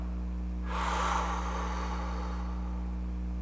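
A single long exhale during a calming breathing exercise, a soft breathy rush that starts abruptly and slowly fades over a few seconds over a steady low hum, with no talking.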